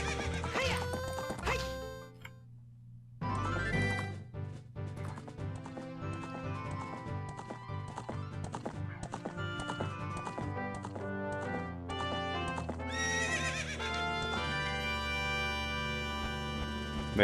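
Epona the horse in The Legend of Zelda: Ocarina of Time neighs and gallops, game hoofbeats clip-clopping steadily under a loud layer of game music throughout.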